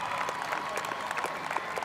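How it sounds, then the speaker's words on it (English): Dense, steady applause from a large sellout stadium crowd at a Women's Rugby League State of Origin presentation on the Sunshine Coast, continuous and loud throughout. "Would you please give them a huge round of applause tonight on the Sunshine Coast?"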